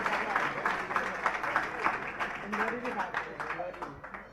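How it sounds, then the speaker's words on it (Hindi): Scattered applause from part of an audience at a Jain religious discourse, moderately loud and uneven, with a voice talking over the clapping. "अब देखो सभी लोगों ने तो ताली नहीं बजा, जो मंडला वाले थे वही बजा"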